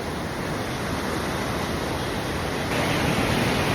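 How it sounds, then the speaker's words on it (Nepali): Water in a village stream rushes steadily, a dense close hiss of flowing water that holds an even level and grows slightly louder toward the end. "हो हाम्रो गाउँको खोला"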